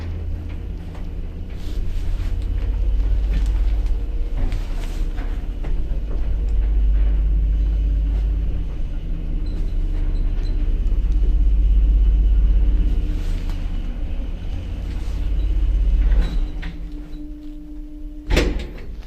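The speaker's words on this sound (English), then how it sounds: "This is a much better lift and is inner doorless. Let's ride it." An old inner-doorless lift runs with a steady low mechanical rumble and hum, broken by a few door-like thumps and rattles, ending in a sharp clunk near the end, no talk.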